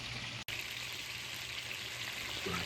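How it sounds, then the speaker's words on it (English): Chicken sears in a hot pan with a quiet, steady sizzle, broken by a brief dropout near the start and a faint clink toward the end. "Can sear it first."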